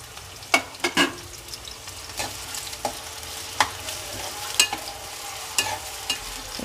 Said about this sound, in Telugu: ఇప్పుడు ఆయిల్ కాగిపోయింది నేను ఆనియన్స్ వేసుకుంటున్నాను ఆనియన్స్ పచ్చిమిర్చి